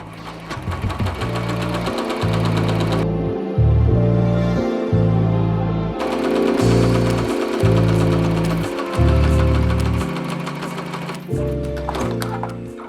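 An embroidery machine stitches an appliqué trace line, a loud mechanical chatter of rapid needle strokes in blocks, with short pauses and pitch shifts as the stitching changes direction.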